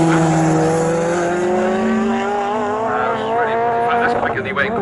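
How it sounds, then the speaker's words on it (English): A Morgan race car, the number 10 car, roars around the Snetterton circuit in a Morgan Challenge race, its loud engine note climbing steadily through the gears while a commentator talks over it. "That roar in the background you may have heard is the number 10 car of Philip Goddard"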